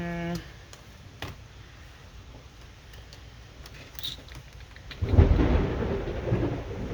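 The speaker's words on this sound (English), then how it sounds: "Oh, I just heard that thunder." A deep roll of thunder swells up late in a rainstorm, rumbling loudly for about two seconds over faint patter and scattered ticks.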